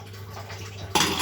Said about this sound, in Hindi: और इसमें मैं 1 गिलास पानी डाल देती हूँ